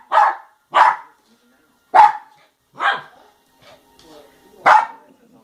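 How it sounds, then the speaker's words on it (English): A dog barks at a closed door indoors, giving about five loud, sharp barks close up at uneven intervals, with a few faint whimpers between them. "This is what happens when you have a crazy dog and you close the door."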